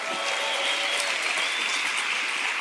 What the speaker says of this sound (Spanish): Ahora damos un aplauso a todos los que están conectados.